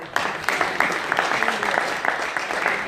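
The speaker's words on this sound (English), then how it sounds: "Can you please give me a lovely clap?" Audience members clap together in a brisk, continuous patter of many hands, moderately loud and close, lasting a few seconds.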